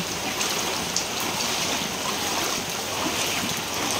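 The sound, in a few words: floodwater flowing through a Manila street during a typhoon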